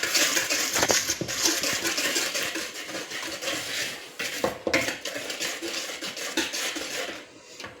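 Plum cake batter being stirred and mixed in a bowl, a close run of repeated clinking and scraping of a utensil against the bowl, uneven in rhythm, with no talk.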